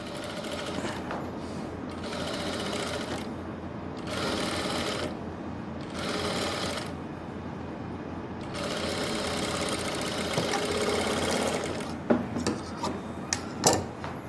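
Sewing machine stitching fabric for palazzo pants, running steadily in bursts with short pauses between runs, close and clear, with a few sharp handling clicks near the end.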